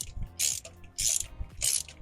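Ratchet wrench clicking as it tightens a spark plug with a collapsible gasket on a Honda Civic, three bursts of rapid metallic clicks, close and clear, with no talk.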